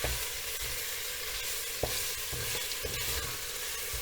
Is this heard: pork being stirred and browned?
yes